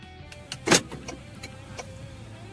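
Remote key fob unlocking a 2022 Toyota Sienna minivan, giving one strong clunk of the door locks with lighter clicks before and after, close and distinct against low background noise.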